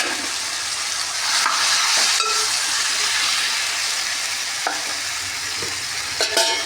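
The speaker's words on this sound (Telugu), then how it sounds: "ఆలు టమాటా ఒకసారి వేసేస్తున్నా" Potato and tomato pieces fry in a pan for an aloo kurma, with a loud, steady sizzle and hiss while a spoon stirs and scrapes, adding a few clicks. No talking.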